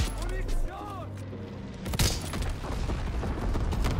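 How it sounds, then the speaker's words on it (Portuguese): Call of Duty WW2 match with sniper play using a Type 38 rifle: a sharp gunshot bursts out mid-clip amid scattered game booms and clatter, with someone talking excitedly over the action. "Que tiro foi esse?"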